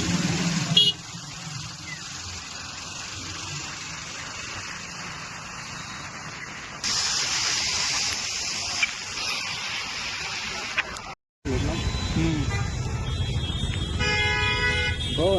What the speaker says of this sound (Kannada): ಇಲ್ಲಿ ಮಳೆ ಬರ್ತಾ ಇದೆ ಫ್ರೆಂಡ್